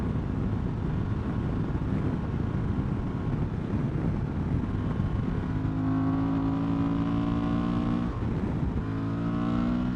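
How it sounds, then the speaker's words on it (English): A Suzuki V-Strom 800 or Honda Transalp 750 adventure motorcycle engine runs steadily while riding, with heavy wind rush, then the revs climb through the gears in rising tones and briefly dip at a shift before climbing again. "Definitely still hear this motor."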